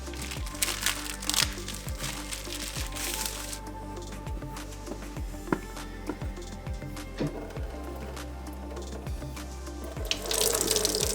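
Spring water trickles and splashes over goat cheese curds sitting in a strainer, a continuous pour broken by crinkly, rustling handling noises, with a louder gush at the start and end.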